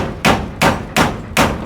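Nails being hammered during a kitchen extension job: four loud, sharp hammer blows at a steady, evenly spaced rhythm, close by, each with a short ringing decay and no talking.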